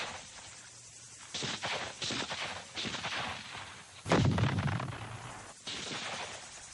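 Rifle fire from a Vietnam War battle in the Ho Bo Woods near the Cu Chi tunnels, scattered bursts and single shots crackling at moderate distance, with one heavier blast partway through and no talk.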